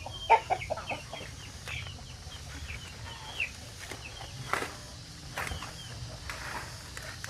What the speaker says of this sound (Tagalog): So kung meron kayong mga alagang manok